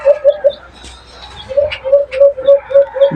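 Pigeon or dove cooing up close from a cage, a steady series of short, low, evenly spaced coos with a brief gap midway.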